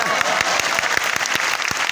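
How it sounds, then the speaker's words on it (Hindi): Audience clapping at a talk with students: steady, dense applause from a group, fairly close and even throughout, with no voices over it. "तो अपने कूका मारने की जगह अपन ताली भी बजा सकते हैं।"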